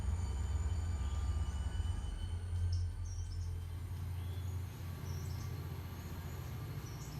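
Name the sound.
train running in the video game Railroader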